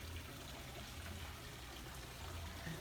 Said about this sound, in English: It's so wonderful to hear the sound of the water.